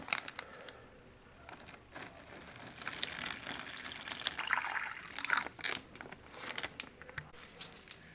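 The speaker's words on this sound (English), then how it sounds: "we'll add 6 ounces of water." Six ounces of water pours into an MRE hot beverage bag, a faint soft trickle and splash with light plastic crinkling, quiet and close.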